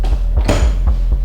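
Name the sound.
brewery door slamming shut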